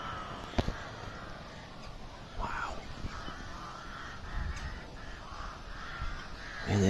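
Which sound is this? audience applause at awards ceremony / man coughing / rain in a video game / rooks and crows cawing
rooks and crows cawing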